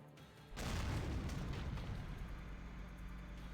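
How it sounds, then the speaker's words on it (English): In the Valkyria Chronicles video game, a tank bursts through a wall with a sudden heavy boom after a quiet moment, followed by a sustained low rumble and rattling debris that slowly fades. "Damn tank's busted right through the stinking wall."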